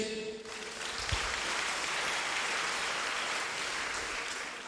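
A church congregation clapping together, a dense, sustained wash of many hands heard from across a large hall, fairly faint and even throughout.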